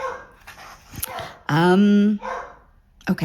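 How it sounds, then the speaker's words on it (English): A dog barks in a home while a person speaks; one strong, drawn-out bark or howl stands out in the middle, with a shorter sound near the end, mixed in with talking. "Excuse the barking dog."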